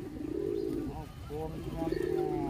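A white pigeon visiting a home coos in low, throaty rolling calls, close by and fairly steady, with a human voice now and then in the background.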